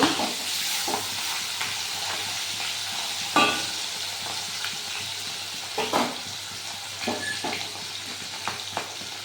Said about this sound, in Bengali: মাছটা একদিকে ভাজা হয়ে গেছে, এখন আমি উল্টাই দিব সুন্দর করে। আর এক পাশে আমি ভেজে নিব।